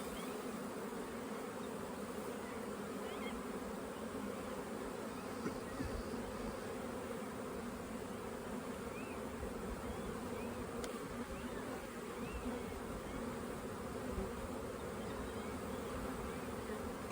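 Honey bees buzz around an open hive during a spring brood-nest inspection, a dense, steady hum that stays close and continuous throughout with no talking.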